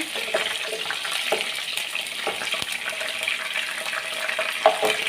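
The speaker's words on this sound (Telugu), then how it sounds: "ఆయిల్లో వేసుకున్నాక ఒకసారి కలుపుకోవాలి మిర్చి కాస్త వేగాక" Chillies frying in hot oil while being stirred, a steady busy sizzle with scraping and stirring noises throughout, no talking.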